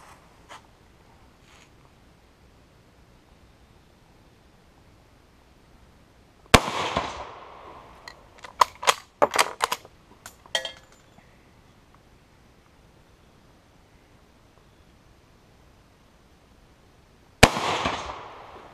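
A Lebel Model 1886/93 rifle in 8x50R fired slow fire at 100 yards: a sharp report, then a cluster of metallic bolt clicks and clatter, and a second loud shot near the end, with quiet outdoor background between them.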